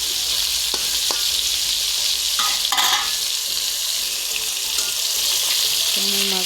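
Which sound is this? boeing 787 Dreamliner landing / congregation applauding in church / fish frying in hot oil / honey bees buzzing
fish frying in hot oil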